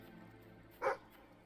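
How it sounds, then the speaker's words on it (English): A single short, faint bark from a dog in Fable III, one quick yip standing out briefly over quiet game ambience. "This dog is nuts."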